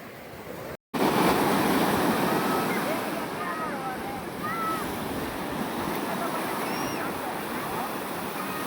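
Sea waves wash continuously onto the shore on the coast between Pondicherry and Chennai, a loud, close roar of surf mixed with wind buffeting the microphone, after a brief cutout near the start.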